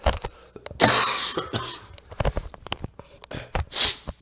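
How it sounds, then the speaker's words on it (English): A person coughs repeatedly in short, harsh bursts, close up, with a throat-clearing rasp between coughs and no speech. "sorry, coughing again"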